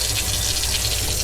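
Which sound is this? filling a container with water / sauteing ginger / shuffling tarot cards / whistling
filling a container with water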